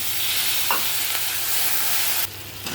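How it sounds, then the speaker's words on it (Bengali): Spice paste with salt, turmeric and a splash of water is stir-fried in a pan for egg curry, giving a continuous close sizzle broken by occasional scraping stirs. "একটু নুন, দেবো একটু হলুদ, দিয়ে আবারও আমি কষাবো মশলাটা ভালো করে।"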